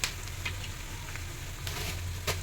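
Onions frying in a pan for white uppittu, a steady low sizzle with a soft continuous hiss and occasional faint pops and stirring scrapes, close and moderately quiet.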